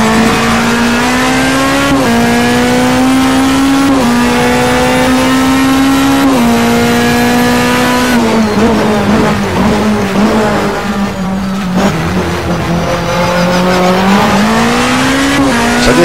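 Race car engine from a DTM 2013 mod of a stock car racing game at Hockenheim, droning loud and steady with pitch dips and climbs through gear changes, tires squealing and skidding mid-run, no talk.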